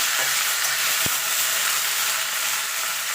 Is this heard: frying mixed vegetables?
yes